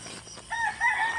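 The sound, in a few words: chickens on a farm at morning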